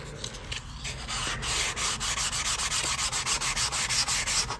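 High-grit sandpaper rubbed by hand across a wood desk scrap in quick, steady back-and-forth strokes, close and fairly quiet, with no talking.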